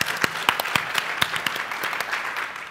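Scattered audience applause, sharp individual claps at moderate volume, steady throughout and then slowly tapering off.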